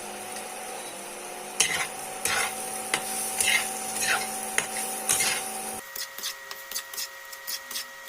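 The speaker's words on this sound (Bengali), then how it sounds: "আলুটাকে বারবার উল্টে পাল্টে লাল করে মিডিয়াম আঁচে ভেজে নেব।" Potatoes crisping in a pan over medium heat, turned again and again: a steady sizzle runs underneath while a spatula scrapes and stirs in repeated strokes every half second or so, close and moderately loud, with no talking.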